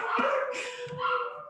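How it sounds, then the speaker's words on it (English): Dogs howl in a brief, wavering, drawn-out cry that rises and falls, with small yips, heard fairly close with no speech over it. "I have dogs howling at wolves."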